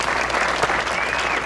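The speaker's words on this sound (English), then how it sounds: "I think that they deserve a round of applause" A round of applause from the audience at a Miss America competition honoring STEM and Quality of Life award finalists, dense steady clapping filling the hall at an even level throughout.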